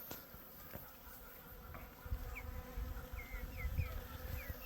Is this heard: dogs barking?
no